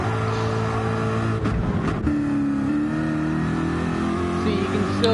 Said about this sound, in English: you can still hear your engine playing